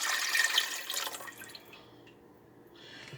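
Homemade broth poured into a cooking pot for white chicken chili, a splashing liquid pour that is loudest at the start and tapers off into quieter dribbles.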